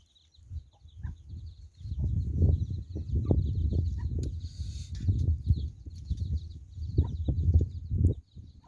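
Chickens on a rural Thai or Lao homestead clucking in irregular, overlapping bursts throughout, close and moderately loud, with no talk over them.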